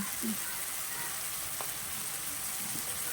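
Potatoes fry in oil for a vegetarian aloo dum, a steady, even hiss and crackle filling the whole stretch at moderate loudness with no speech over it.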